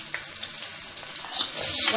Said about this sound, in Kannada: ಹಾಕಿ ಚೆನ್ನಾಗಿ ಫ್ರೈ ಮಾಡ್ಕೋಬೇಕು